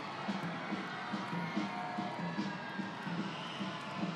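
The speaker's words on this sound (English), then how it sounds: "Crowd making some noise" Soccer stadium crowd at a Real Monarchs SLC versus Phoenix Rising FC match making a steady distant roar before a corner kick, faint cheering swelling here and there with no clear voices.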